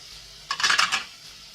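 Ginger, garlic and green chili drop into a hot pan for a tapioca chicken biryani, giving a short bright sizzle and clatter that lasts about half a second, close by, with no voice.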